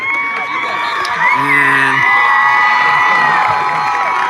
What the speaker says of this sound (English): As you can hear the Tiger fans clapping their hands, they're excited